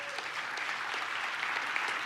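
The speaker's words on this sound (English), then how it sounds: "why don't you just give them a round of applause for..." A church congregation claps for volunteers, a steady round of applause from a seated crowd, moderately loud and even throughout with no speech over it.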